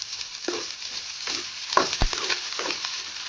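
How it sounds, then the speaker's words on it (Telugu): Mustard seeds, cumin, dry red chilli and curry leaves sizzle in hot oil for pesara pappu vankai, with close crackling and spitting broken by a few sharp pops and the scrape of stirring. "మనం తీసుకున్న పోపు దినుసులని దీంట్లో యాడ్ చేసుకోండి"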